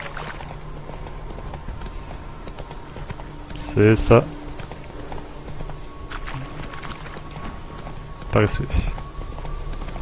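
Horse hooves clip-clop in The Witcher 3, two short bursts of trotting steps a few seconds apart over a soft game background, with someone talking casually in French.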